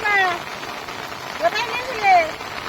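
Rain falls as a steady hiss on a rainy day in the Sundarbans, with a voice speaking over it in short phrases.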